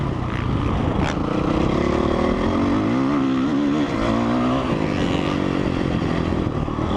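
A 2004 Honda CRF 450 dirt bike engine runs steadily while being ridden, its loud, continuous drone rising and falling slightly in pitch as the throttle shifts, with no talking.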